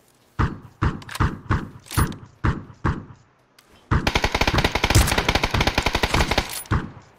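PUBG gunfire on PC: a string of evenly spaced single shots, a brief pause, then a long rapid automatic burst. It is loud and close.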